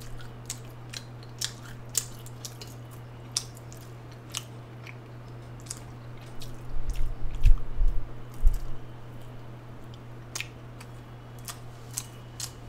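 Close, quiet chewing of McDonald's Chicken McNuggets, with soft crunches and wet bites scattered over a faint steady hum, growing busier and louder in the middle.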